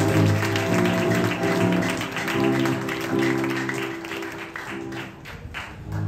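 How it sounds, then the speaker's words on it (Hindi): A church congregation claps loudly during a Hindi sermon, steady massed hand clapping over sustained music tones, fading somewhat toward the end. "जोर से परमेश्वर के लिए तालियां बजाएंगे"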